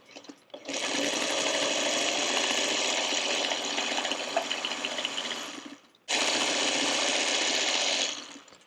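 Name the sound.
sewing machine stitching quilt block pieces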